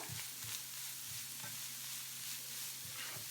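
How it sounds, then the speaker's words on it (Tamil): Carrot stir-fry with salt stirred in a pan, a steady sizzle with soft rhythmic scrapes of a spatula against the pan, close and moderately loud. "உப்பு சேர்த்து அடி பிடிக்காமல் கிளறிக்கிட்டுருங்க."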